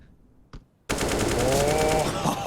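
A long automatic-rifle spray from a Counter-Strike pro match between Team Liquid and Fnatic bursts in suddenly after near silence. The fast, loud, continuous gunfire rattle lasts well over a second, with a voice faintly underneath.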